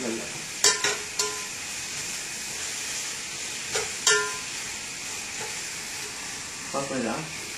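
Tomatoes frying and being stirred in a pan for Tamil Nadu fish curry, a soft steady sizzle with a few sharp scraping knocks of a spoon against the pan, close and moderately quiet.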